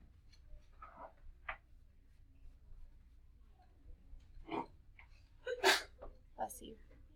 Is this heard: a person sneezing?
yes